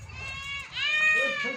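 A goat bleats while its kid feeds on milk, giving one drawn-out wavering cry at moderate loudness over low background noise.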